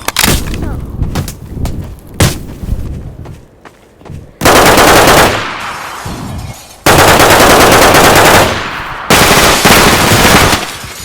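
Loud bursts of rapid video game gunfire, with scattered single shots early on, then long sustained automatic volleys separated by brief pauses.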